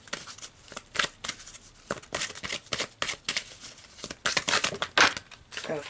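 Tarot cards shuffled by hand, a close series of quick riffling and sliding bursts with brief pauses between them over about six seconds.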